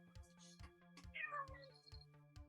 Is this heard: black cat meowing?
yes